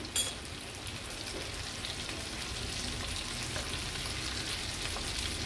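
Squid rings sizzle in hot oil over a medium gas flame, giving a soft, steady crackling hiss with faint spits, close by and with no talking.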